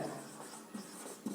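Short, soft scratchy strokes of writing on a board during a physics lesson, quiet and close, with small bursts of marking.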